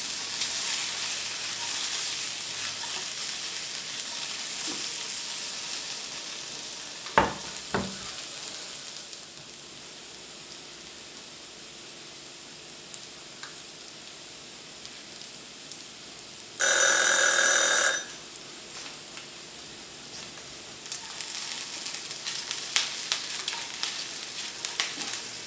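Potatoes fried with bacon and onions sizzle steadily in a pan at low volume, broken by a few clatters and a loud kitchen timer ringing midway, with no talking.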